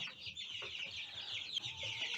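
Chickens cluck and chatter continuously nearby, a busy overlapping flock with a faint low background rumble and no talking.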